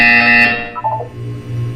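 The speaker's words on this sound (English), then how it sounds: "You will hear a buzzer." A loud electronic buzzer from the video game Portal 2 blares briefly, then cuts off and fades into a low, lingering hum.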